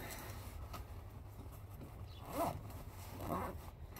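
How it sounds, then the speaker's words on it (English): Zippers on an outdoor gear bag are pulled open in two short quick rasps, close and fairly quiet against a low background hum. "comes with these nice zippers."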